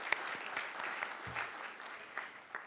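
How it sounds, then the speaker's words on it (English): A crowd at a commission meeting claps steadily for a few seconds, the applause sounding moderately distant with no voices over it. "That's another applause for him there, too."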